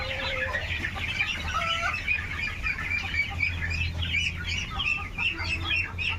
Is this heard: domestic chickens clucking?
yes